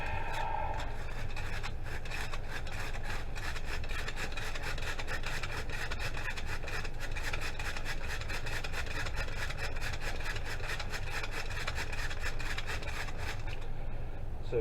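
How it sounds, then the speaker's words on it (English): Sanding of a small wooden item, a steady rough rubbing scrape that runs close and continuous for nearly the whole stretch with no talking, then eases off at the very end. "And then we got to sand this side."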